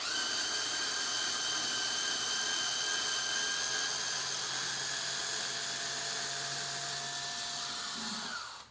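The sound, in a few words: cordless battery drill driving screws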